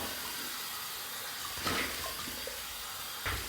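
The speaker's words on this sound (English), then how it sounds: "So let's just wet the face and get going." Tap water running and splashing near a sink as the face is wetted before shaving with a shave stick, with a steady close rush and two brief louder splashes of water scooped from the stream.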